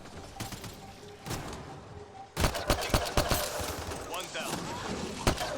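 Video game gunfire in Mass Effect Andromeda while shooting at enemies: sparse sharp shots at first, then a denser volley of rapid bursts with loud cracks, with in-game voices under the shooting.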